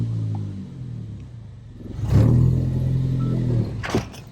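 A car engine on a dyno, rumbling low at idle and then climbing into a loud rev from about two seconds in, holding before dropping off near the end.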